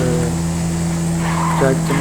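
Car in the video game GTA V skids through turns with no braking, a loud continuous engine drone with tire squeal layered on top, while someone talks over it.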